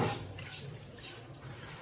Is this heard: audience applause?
no